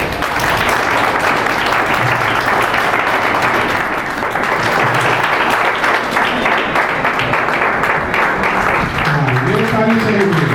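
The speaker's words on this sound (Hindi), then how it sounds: "ये ताली सही हुई।" Audience applause at a youth leadership boot camp for future young leaders in Kaimur, loud sustained clapping filling the whole stretch with a voice speaking over it near the end.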